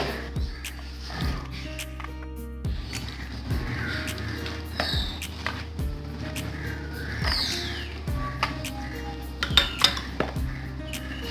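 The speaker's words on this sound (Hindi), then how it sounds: "अब मैंने इसको बड़े प्याले में पलट लिया ताकि अच्छी तरह से मिक्स हो जाए" Fish katakat is mixed with masala in a large bowl, with repeated close clinks, taps and scrapes against the dish in an uneven rhythm.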